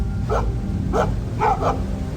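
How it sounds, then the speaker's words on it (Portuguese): Dogs bark in three sharp bursts over a steady low rumble of background noise, the barks close and fairly loud, spaced roughly half a second apart. "os cães estavam latindo demais"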